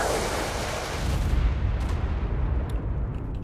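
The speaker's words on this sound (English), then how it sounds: "just gonna keep bombing" Bombs going off in the video game Ark, a dense roar of blasts and rumbling booms that swells and then thins into scattered crackling, loud and continuous with no talking.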